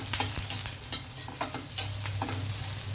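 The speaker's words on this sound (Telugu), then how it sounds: "ఇప్పుడు మనం ఎండుమిర్చి, కరివేపాకు వేసాం. కొంచెం వేగిన తర్వాత పప్పు ఇందులోకి తిరగేసేద్దాం." Dried red chillies and curry leaves fry in hot oil for a traditional dal, giving a steady close sizzle broken by scraping stirs, with no voices.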